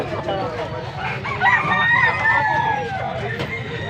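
Roosters at a busy chicken market in Angeles City, Pampanga, crowing in long repeated calls with scattered clucks, close and fairly loud over a steady crowd babble and people talking.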